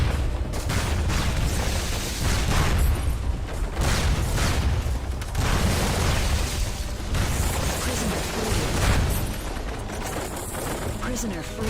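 Gunfire and explosions from the tactical shooter SOCOM II, with dense continuous bursts and booms throughout, including a grenade blast, mixed with game noise and a voice talking over the action.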